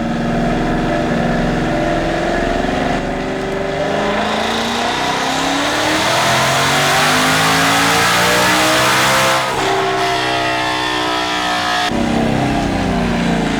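A 2023 Mustang GT, boosted and running 93 octane with a full exhaust, revs hard on a dyno pull. Its loud engine note climbs steadily in pitch, then drops and surges again, with no talk over it.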